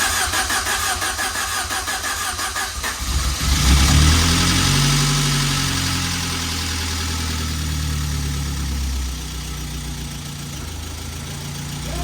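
A Saab 900 Turbo engine cranks and catches, turning over roughly for about three seconds before firing into a loud, uneven idle that runs steadily to the end of the clip, close to the microphone.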